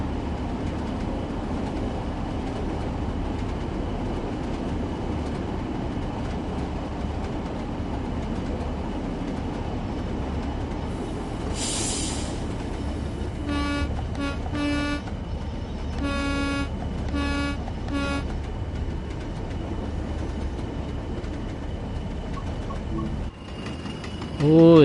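In Train Sim World 4 on the Northern Trans Pennine route, a train rumbles steadily throughout, and a series of horn toots sounds in the middle before the rumble carries on.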